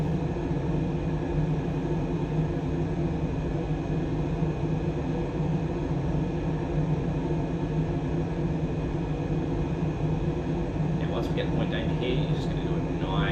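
A Super Hornet jet flying low in a flight simulator game gives a steady, unbroken engine roar throughout, with someone talking over the constant drone.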